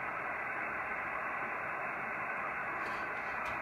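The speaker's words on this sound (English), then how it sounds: "So today we're seeing 8 dBs of sun noise." Steady broadband hiss of solar radio noise received on an amateur radio receiver during a sun noise measurement, a constant even rush filling the whole clip with no talk.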